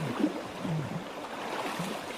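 Floodwater rushes steadily over a newly planted rice field nearby, a continuous churning wash with no voices over it.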